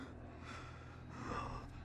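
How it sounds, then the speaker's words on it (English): Heavy, labored breaths come from a figure in a dramatic TV fantasy scene, two or three drawn-out gasping inhales and exhales, soft and breathy over a low background hum. "Labored breathing, good."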